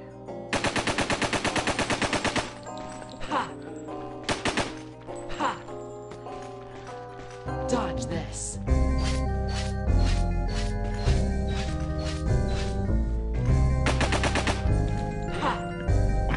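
Rapid machine-gun bursts and single gunshots from a PS5 shooter game ring out loud and close. Long sustained volleys trade off with short pauses, layered over the game's background sounds.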